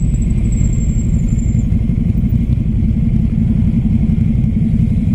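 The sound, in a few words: Ducati Scrambler Flat Track motorcycle riding and downshifting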